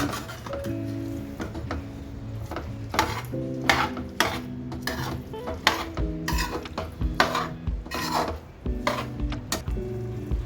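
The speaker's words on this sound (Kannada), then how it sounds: "ಎಲ್ಲ ಈ ಥರ ಚೆನ್ನಾಗಿ ಕಲಿಸ್ಕೋಬೇಕು" Radish and radish-greens palya stirred in a pan with a metal spoon, steady repeated scraping and clinking against the pan, close and fairly loud, without talk.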